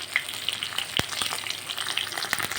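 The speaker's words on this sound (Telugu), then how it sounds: "ఇప్పుడు ఇందులో కరివేపాకు వేసేస్తున్నాను." Curry leaves drop into a pan of frying onions and chillies, giving a steady close sizzle with bright crackles and one sharp pop, no talking.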